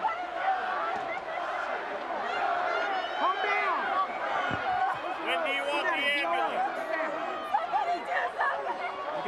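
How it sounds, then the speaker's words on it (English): Wrestling arena crowd screams and shrieks in a dense, continuous roar of overlapping voices, loud and excited throughout. "You can hear the shrieks of horror from the crowd."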